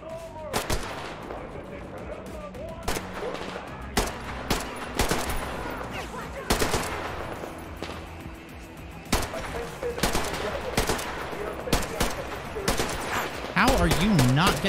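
Repeated gunshots and bursts of automatic fire ring out at the player in the Metro Exodus Sam's Story DLC, sharp loud cracks scattered irregularly over a steady game background, with a warbling tonal sound rising near the end.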